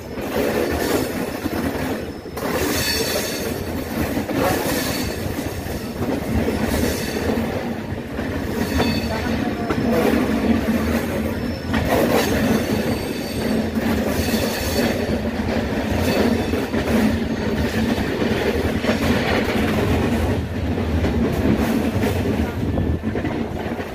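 A train rolls steadily out from Kolkata, with a continuous rumble, rhythmic clacking of wheels over rail joints and occasional squeals, heard from inside a carriage.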